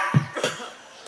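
A single short cough bursts out sharply, followed by a softer second exhale, near and fairly loud, during a humorous Sundanese religious sermon.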